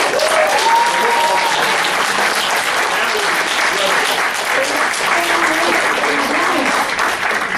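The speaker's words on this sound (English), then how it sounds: "One more round of applause" Open mic audience applauding steadily and loudly for several seconds, dense sustained clapping with a few voices and cheers mixed in.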